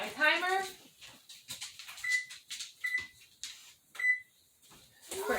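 A kitchen timer being set while kneading sourdough bread dough gives three short, clear electronic beeps spread between bursts of nearby talking.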